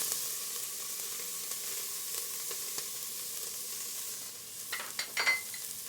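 Red Fresno chilies and ginger sauté in a pan, making a soft, fairly quiet sizzle with a few faint ticks. A brief burst of louder clatter or stirring comes near the end.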